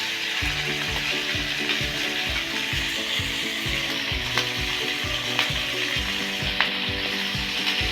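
Ginger, cumin, coriander paste and turmeric sizzle in a hot pan for an aloo potol curry. The frying hiss is loud and steady, with a regular scraping, ratchet-like rhythm of stirring running through it.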